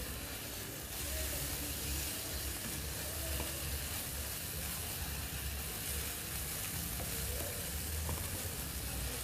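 A fillet steak frying in butter in a pan, a constant close sizzle and hiss of hot fat that holds steady and loud throughout, with no talking.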